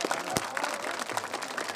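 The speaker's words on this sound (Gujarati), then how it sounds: "તાળીઓ તમારી આવી ઢીલી" Scattered, thin applause from a village audience at a temple consecration festival, a brief patter of loose claps near the microphone, uneven and fairly quiet.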